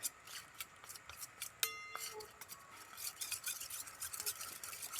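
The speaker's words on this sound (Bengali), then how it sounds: "এবার এখানে আমি একটা বাটিতে দু চামচের মতো কর্নফ্লাওয়ার নিয়েছি অল্প জল দিয়ে একটু ভালো করে মিশিয়ে নিচ্ছি" A spoon stirs cornflour mixed with a little water in a bowl, giving quick, close, light clinking and scraping strokes in an uneven rhythm at low volume.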